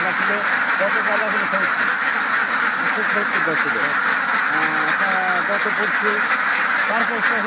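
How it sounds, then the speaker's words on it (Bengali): A large flock of about 450 ducks on a duck farm quacking continuously and loudly, many overlapping calls close by, with a person talking over the din. "সাড়ে চারশো হাঁস আছে"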